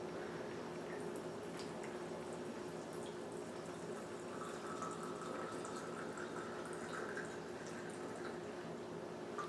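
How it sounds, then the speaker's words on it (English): Alcohol poured steadily into a glass jar to make an Echinacea purpurea herbal tincture, a continuous close liquid stream running throughout with no speech. "I'm going to fill this mostly with alcohol"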